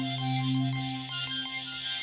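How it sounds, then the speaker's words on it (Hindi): A mobile phone rings in a Hindi TV drama scene, a short melodic electronic ringtone with repeating tonal notes, clear and moderately loud, with no speech over it. "मेरा फोन बज रहा है"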